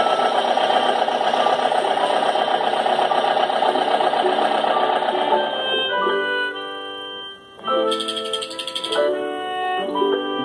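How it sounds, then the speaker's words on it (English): An excavator engine runs steadily and loudly for about six seconds with a dense, rattling drone, then fades into a light musical passage with chime-like tones. "Excavator."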